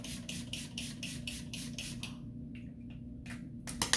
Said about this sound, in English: I just like to use the hydrating antioxidant face mist. So I'm going to just spray this generally across my face.